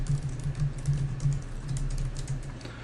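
Code being typed on a computer keyboard, a fast continuous patter of light key clicks, close and steady, with a low hum behind and no speech.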